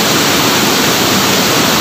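Water pours steadily down Talon Pari Falls in Bulacan, a three-tiered waterfall, giving a loud, constant, close-up rush with no break.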